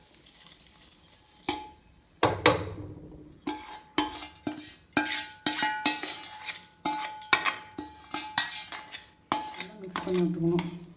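Ghee tempering with masala being stirred into soft venn pongal in a metal pot: repeated scraping clinks of a spoon against the pot in an uneven rhythm, close and clear, with a faint sizzle near the end.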